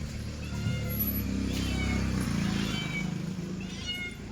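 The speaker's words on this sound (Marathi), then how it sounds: "हा इथं पण एक मांजर आहे." A cat meows faintly outdoors on a house rooftop terrace, a few soft cries over a constant low rumble of background noise.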